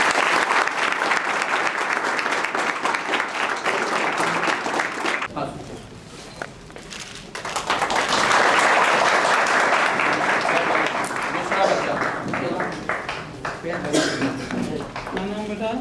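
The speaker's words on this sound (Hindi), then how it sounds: "तालियों से इनको स्वागत।" Dense audience applause at a children's rehabilitation home event, greeting a magic show for the kids; loud, sustained clapping with crowd noise, a brief dip in the middle before swelling again.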